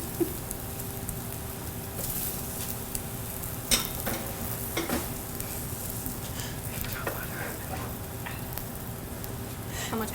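Rice being stir-fried with beef in a pan, a steady close sizzle with scraping and clinking of the stirring utensil, sharp ticks scattered through it and a voice now and then.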